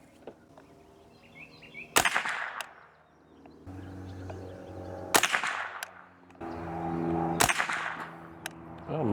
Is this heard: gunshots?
yes